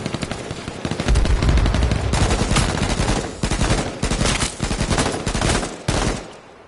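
AK rifle fire in a PS4 video game, loud sustained automatic bursts crackling almost continuously with short breaks between strings of shots, close and dominant with no voices.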